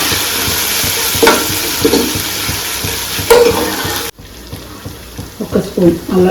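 Onions, mint and ginger garlic paste frying in a pan, stirred with scraping strokes over a loud steady sizzle that drops suddenly quieter midway, then resumes with more stirring.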